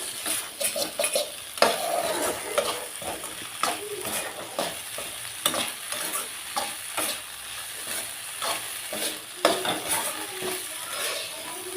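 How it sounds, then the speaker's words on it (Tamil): Okra and egg stir-fried in a pan, a spatula scraping and stirring in quick irregular strokes over a steady close sizzle, with faint clinks of utensil on metal and no talk. "ரெண்டு நிமிஷம் இப்படி வதக்கி விட்டிங்கன்னா வேலை முடிஞ்சது"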